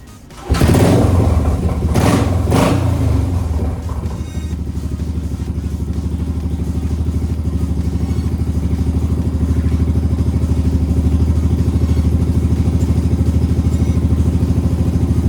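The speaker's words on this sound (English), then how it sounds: "We got the bike put back together and got it started off the first kick." A 1974 Honda XL350 kickstart motorcycle fires up after a loud initial clatter, then settles into a steady, close, thumping idle that runs on evenly without speech.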